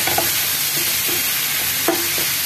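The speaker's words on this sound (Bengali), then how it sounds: "এবার এখানে সামান্য জল দিচ্ছি, একটু নরম হওয়ার জন্য জল দিলাম।" A little water is added to a frying pan holding paneer butter masala, giving a steady close hiss of sizzling broken by a few soft stirring scrapes and light clinks of a utensil.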